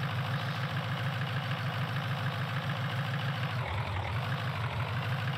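A chainsaw engine in Farming Simulator 2011 drones steadily throughout, a loud and continuous mid-low running tone with no talking.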